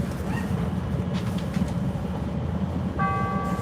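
A Green Line elevated train car rolls along the track with a steady rumbling clatter, and a bright chime sounds near the end.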